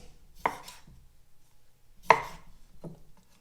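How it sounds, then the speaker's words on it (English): A knife chops capers and dill pickle in three sharp, separate strikes, close and crisp, with quiet pauses between them. "Chop up these capers."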